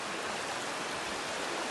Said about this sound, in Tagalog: Ganda ng ilog, ang laki.